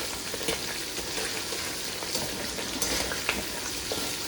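Ingredients for Ofada stew fry in a pot with a steady, dense sizzle and crackle throughout, with a few faint scraping clicks from stirring, close and fairly quiet.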